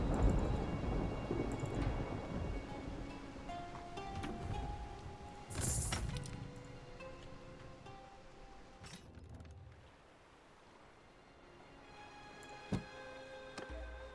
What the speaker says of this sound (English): there's always a storm over Artesia